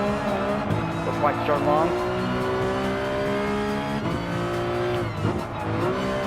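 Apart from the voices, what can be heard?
Ferrari 458 Italia race car in Gran Turismo Sport video game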